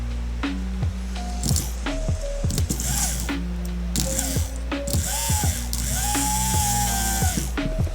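An Andis Supra ZR hair clipper motor runs on a bench test, giving a steady, close mechanical buzz with whirring, gear-like tones that shift in pitch, and no speech.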